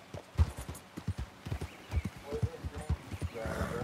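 Horse hooves clip-clop in a steady, fairly quiet rhythm in Red Dead Redemption 2, with occasional whinny-like sounds over a soft game background.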